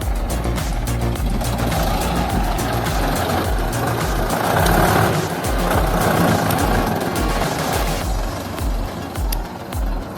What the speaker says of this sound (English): The T40 tractor, with 40 HP, uproots a deeply rooted tree with ease.